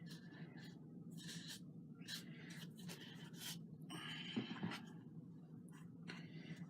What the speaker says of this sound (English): I'm going to cut this excess off now